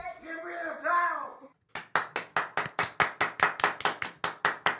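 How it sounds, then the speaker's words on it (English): A voice speaks briefly, then a single person claps about fifteen times in a steady, quick rhythm, sharp and close. "Do we clap at the end now?"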